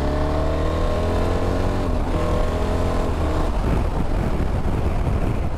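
A BMW R1300 GS motorcycle engine pulls hard, its pitch climbing steadily as it accelerates, close and loud with a gritty roar underneath.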